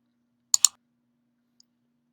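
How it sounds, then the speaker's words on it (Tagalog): Two quick mouse clicks close together, crisp and near against silence, with a faint tick a second later. "Saka nyo na i-click ang next button"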